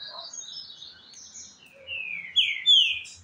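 A pet songbird kept in a cage sings in short, high chirps and whistled phrases, fairly close and clear against a quiet background, with a couple of louder trills near the end.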